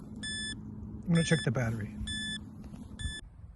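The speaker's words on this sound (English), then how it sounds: "But now my goggles are beeping at me." FPV drone video goggles beeping a low-battery warning, four short evenly spaced high electronic beeps, quiet and close, while a person talks briefly in between.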